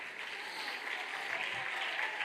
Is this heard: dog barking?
no